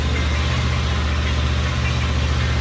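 A Kawasaki Eliminator motorcycle idles close by with its RPM settling down, giving a loud, steady, low rumbling throb that stays even throughout with no voices over it.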